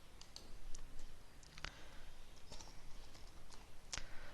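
Computer keyboard keys typing a short message into a desktop automation tool, giving scattered soft clicks with a few sharper taps, close and quiet with no talking.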